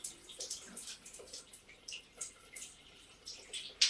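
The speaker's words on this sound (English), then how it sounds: "And now I'm just gonna rinse it out." Water rinses shampoo out of curly hair with soft, continuous splashing and trickling, faint and close, with small irregular bursts of spray throughout.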